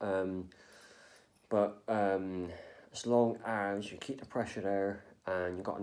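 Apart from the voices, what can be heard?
No everyday noise stands out behind the speech.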